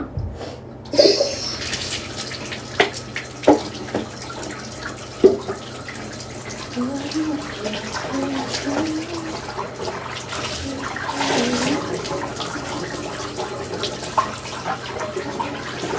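A tap runs in a motel bathtub while dishes are washed, a steady close water rush with scattered clinks and clatters of dishware, occasional sharper knocks, and no speech.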